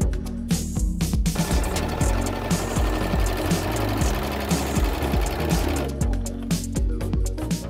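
A Janome Overlock AirThread 2000D overlock sewing machine stitches fabric with a rapid, continuous mechanical whir. It runs loud and near, with short stops at the start and end, and no voices.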